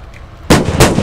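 Two loud, close gunshot blasts from the Squad video game break through a quiet background in an Iraqi urban setting, each with a sharp crack and a brief rumbling tail, without talking.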